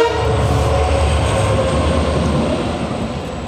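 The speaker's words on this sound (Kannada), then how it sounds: "ವಾಪಸ್ ಇನ್ನೊಂದು ಟ್ರೈನ್ ಬರ್ತಿದೆ." A light engine passing by on a rail line near Doddaballapur, a loud steady rumbling drone with a horn-like tone, heard close up and slowly fading, no talk.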